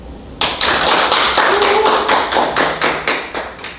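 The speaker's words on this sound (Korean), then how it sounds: "여러분들의 열렬한 박수를 기대하면서" An audience bursts into applause at a speech event, starting abruptly after a quiet moment, with distinct close claps in a fairly steady rhythm that tapers toward the end.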